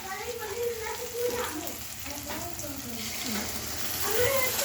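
Spice-rinsing water poured into a hot pan for dhaba-style kadai paneer, sizzling and hissing steadily at close range, with faint stirring and a light undertone of voices nearby.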